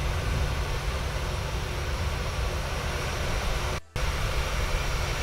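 A Boeing 737 in a flight simulator rolls along at an airport, its engines giving a steady, loud, broadband roar with a brief dropout near the end, and no one talking.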